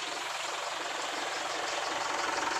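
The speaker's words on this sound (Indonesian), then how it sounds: "kedengar suara mesin." A 2013 Mitsubishi Pajero Unlimited engine idles steadily in a smooth, even hum with a faint rhythmic knock, close by and alone for a couple of seconds.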